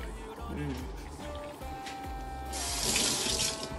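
Tap water runs steadily into a kitchen sink while callaloo is being cooked, a continuous hissing splash that grows brighter near the end, with a voice speaking over it.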